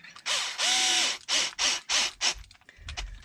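A powered driver whirs in several short bursts, tightening screws on a Traxxas XRT truck's suspension, each burst rising and stopping with brief pauses between, close and clear with no voices.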